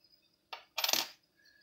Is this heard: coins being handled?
yes